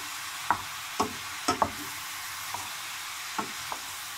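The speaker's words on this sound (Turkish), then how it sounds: "karıştırarak etlerin her yerinin ısıyla temas etmesini ve renginin kırmızıdan kahverengiye dönmesini" Beef pieces for kavurma sizzle steadily in a hot pan while a spoon stirs them, giving several sharp scraping knocks at irregular intervals over the continuous frying hiss.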